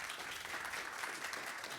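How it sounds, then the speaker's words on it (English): A crowd claps continuously, a dense, even wash of applause at a fair distance with no pauses, welcoming a guest at a business fireside chat. "please, a round of applause for John."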